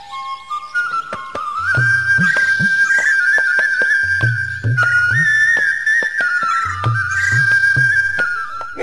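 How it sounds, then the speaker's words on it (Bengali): A grass flute played in an animated folk story, a bright sustained whistling melody with slight wavering pitch, accompanied by rhythmic low percussion beats and soft backing music. "শিয়াল বাঁশি বাজাতে লাগলো।"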